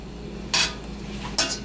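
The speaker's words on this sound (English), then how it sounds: "and we're going to stir this up." Brown rice for fried rice being stirred in a pan, two short scraping, clinking strokes of a utensil against the pan about a second apart, close and moderately loud over a low background hum, no voices.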